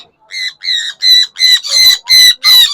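A red factor pet bird in a breeder cage gives a loud, close series of about seven harsh squawks in an even rhythm, each call bright and grating, with no talk over them.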